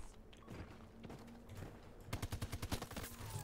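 Rapid automatic gunfire in Battlefield 2042 lands as a quick burst of punchy, evenly spaced shots in the last second and a half, preceded by softer scattered game noises and movement.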